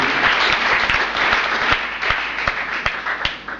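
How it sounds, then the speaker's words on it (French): A congregation gives an ovation for a late pastor at a church gathering, sustained crowd applause with distinct individual claps punctuating it, loud and steady for several seconds. "je voulais ici qu'on donne une ovation à ce grand serviteur de Dieu"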